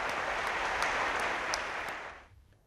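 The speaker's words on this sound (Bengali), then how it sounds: "জোরে একটা হাততালি।" Applause from an audience at the Meril Prothom Alo Award 2000 ceremony, a dense, sustained crowd clapping that holds steady for about two seconds before fading out quickly.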